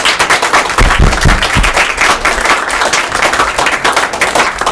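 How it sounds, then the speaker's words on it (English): An audience at a faculty event on classroom political conversations breaks into loud, dense applause, many hands clapping at once in a continuous roar with a few heavier thumps early on. "So can we please give another round of applause?"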